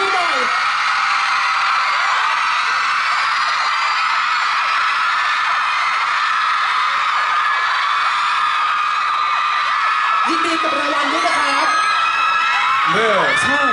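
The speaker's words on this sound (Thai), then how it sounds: "ส่งเสียงกรี๊ดดังๆ" A large crowd of fans at a K-pop fan meeting in Bangkok screams and cheers in a sustained, shrill roar throughout, with a voice briefly rising above it near the end.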